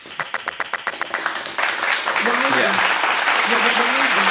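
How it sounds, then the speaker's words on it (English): Rhythmic hand claps, close and evenly paced at first, run into a livelier round of clapping from a small group on a podcast set, while voices call out and talk over it. "Come on, Give man. me a clap."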